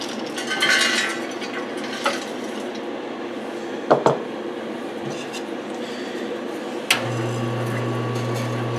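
A home oil press expeller, preheated, is fed pecans, giving scattered wooden knocks, ratcheting clicks and mechanical clatter before a steady low motor hum sets in near the end.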